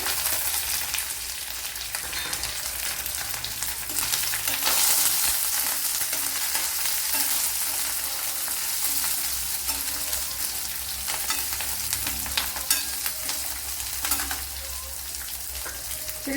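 Garlic and sliced shallots frying in oil in a pan for a green peas dish, a continuous close, loud crackling sizzle with faint stirring, no voices.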